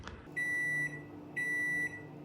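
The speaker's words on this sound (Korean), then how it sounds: "계란을 좀 풀어서 전자레인지 다시 돌리겠습니다" A microwave oven heats beaten egg poured over soft tofu, giving off a steady low hum broken by two long, loud, piercing electronic beeps, each about half a second long, with no voices.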